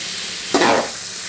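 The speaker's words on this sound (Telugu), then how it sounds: "సాల్ట్ వేసి ఒక్కసారి ఇలా కలుపుదాం." Salted stuffed brinjal fry stirred in an oily pan, a steady background sizzle with one brief scraping stir swelling up in the middle.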